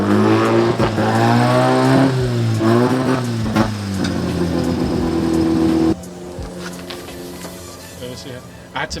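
A Mazda RX-7 engine fires and revs in several rising and falling bursts, loud and close, then settles to a quieter idle while people talk nearby.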